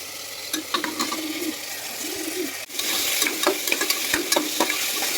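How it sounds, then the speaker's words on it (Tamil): Onions, tomato, coriander, ginger-garlic and mutton sautéing in oil for mutton kulambu, with a soft steady sizzle and a scraping spoon stirring the pan in short bursts. "இப்போ வெங்காயம் வதங்கி வருது."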